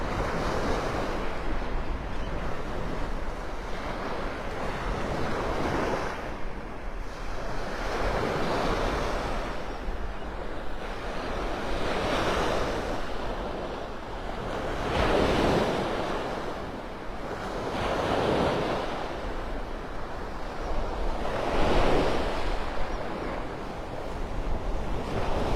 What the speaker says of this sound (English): Surf is up, James.